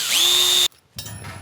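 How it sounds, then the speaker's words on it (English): A power drill whines up to speed and holds a steady high pitch while pre-drilling a hole for a custom griddle jet burner, then cuts off abruptly, followed by a brief rustle. "Pre-drill it here."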